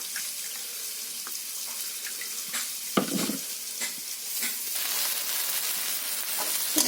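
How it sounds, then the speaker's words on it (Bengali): Spice masala fries in a pan with a steady bright sizzle, broken by a few sharper scrapes and stirring clatters, loud and close throughout with no talking. "মশলাটা আমার ভাজা হয়ে গেছে"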